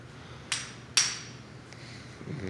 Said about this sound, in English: hammer right here